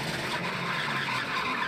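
A NASCAR Pinty's Series race car, the Rick Ware Racing number 51, locks its brakes and skids, giving a loud, continuous broadband roar of tire scrub and engine noise across the whole moment.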